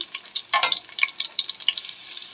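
Garlic sautéing in a pan for pancit gives off crackly, irregular sizzles and pops, with a brief louder clatter of stirring near the start, fairly close and without speech.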